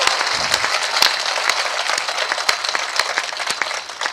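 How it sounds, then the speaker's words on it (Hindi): An audience at a Hindi poetry event claps loudly and steadily for several seconds, with dense applause and sharp individual claps standing out. "तो एक बार जोरदार तालियां उठाइए सब लोग जाग के"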